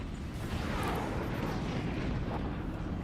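Howitzer artillery in the Forts strategy game fires from both sides in a dense, continuous rumble of overlapping booms and blasts, loud and unbroken, with no talking.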